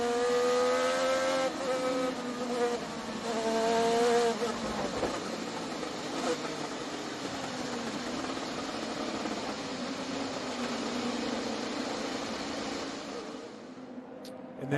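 An IndyCar race car engine roars onboard during practice at the Portland Grand Prix, rising in pitch through upshifts, then holding a steady loud drone with shifting whine, under faint commentary.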